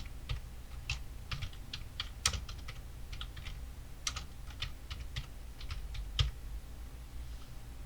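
Keys clack on a computer keyboard as a project name is typed, a quiet, irregular run of light taps with short pauses between bursts, close and alone without speech.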